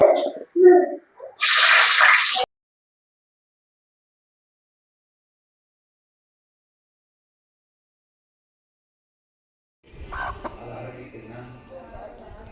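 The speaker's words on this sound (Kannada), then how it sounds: "ಏದು ಕೋಳಿಗೆ ಭಾರಿ ಧೈರ್ಯ." A village hen clucks in short, close bursts at the start and again near the end, separated by a long silent gap, with voices briefly audible too.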